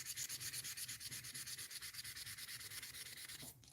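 Rhythmic back-and-forth wet sanding strokes on a resin model part, steady and close, a wet abrasive rasp repeating roughly every tenth of a second, stopping just before the end.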